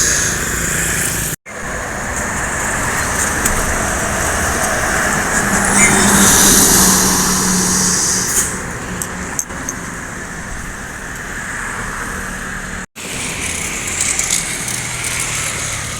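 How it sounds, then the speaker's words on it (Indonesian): A Sumbar intercity bus, a Minang coach, speeds past at about 100 km/h on the smooth Soekarno-Hatta road at night, a loud steady rushing roar of engine and tyres that swells and fades, with broadband road noise throughout and no talk. "Dengan kecepatannya 100 km/jam, ini dia bus Minang yang masuk lintasan pada malam hari ini."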